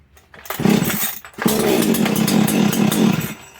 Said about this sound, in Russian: Пила схватилась.